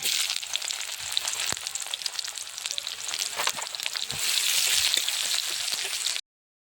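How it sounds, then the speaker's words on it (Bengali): Chopped onion sizzles in hot oil in a wok: a dense, steady frying crackle that grows slightly louder before cutting off abruptly. "কড়াই তেল দিয়ে দিব।"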